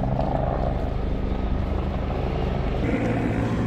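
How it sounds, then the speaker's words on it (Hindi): A helicopter carrying a chief minister to a large outdoor religious gathering in India comes in overhead, its steady loud rotor thrum filling the whole moment without any talk. "अरे यो आ गया हेलीकॉप्टर इनको, वो देखो।"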